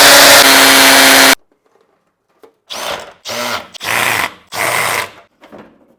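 Power drill boring into a concrete ceiling to fit light fixtures: one long continuous loud whine, a pause, then four shorter close, harsh drilling bursts in quick succession.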